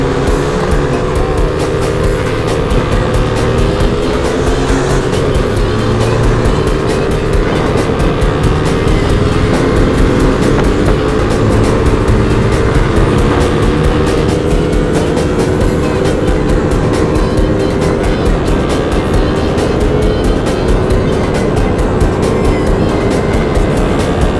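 A pickup truck drives on, its engine and road roar loud and continuous for the whole stretch, with no voices over it.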